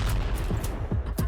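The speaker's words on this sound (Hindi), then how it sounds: "और फिर होता है जबरदस्त धमाका।" Drone strike explosions hitting Russian soldiers in the Russia-Ukraine war, a rapid series of sharp blasts and booms with dense low rumble throughout, loud and close, no voices.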